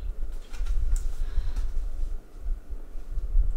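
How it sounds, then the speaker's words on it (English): Pigeons or doves cooing outdoors, faint and a little distant, in a few soft calls over a low rumbling background. "those birds are really starting to get on my nerves"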